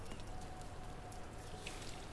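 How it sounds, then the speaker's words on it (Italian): Rain falls outdoors, a soft steady hiss with scattered patters of drops, faint and continuous, with no voices. "Sta piovendo."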